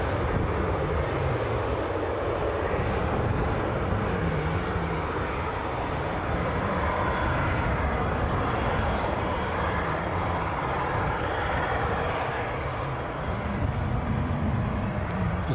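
A Lufthansa airplane at Edinburgh Airport gives off a continuous, fairly distant engine rumble and rush that holds steady throughout, with no talking.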